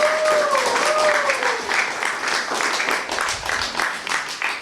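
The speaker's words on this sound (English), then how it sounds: "Give him a round of applause." Audience applause at a school club event, a dense wash of clapping held steady for several seconds, with a whistle-like tone and voices mixed in near the start.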